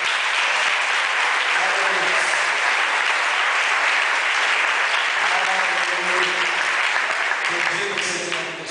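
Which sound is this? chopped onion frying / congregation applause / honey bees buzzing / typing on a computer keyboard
congregation applause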